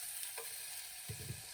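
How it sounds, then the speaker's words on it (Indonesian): Potatoes fry in olive oil with salt and pepper in a pan, giving a faint steady sizzle with a couple of soft scraping stirs near the end. "kentang ya, saya pakai minyak olive, garam sama merica sedikit, dipanggang di pan."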